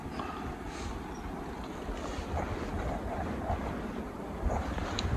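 Strong wind gusts across an outdoor campsite at night near a small campfire, buffeting the microphone in a steady, rushing roar that swells slightly toward the end.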